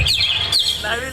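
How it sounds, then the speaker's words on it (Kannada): Bright bird chirps in quick succession, a couple of rising-falling tweets, close and clear over a faint low rumble. "ಪಕ್ಷಿಗಳ ಚಿಲಿಪಿಲಿ ಕಲರವ"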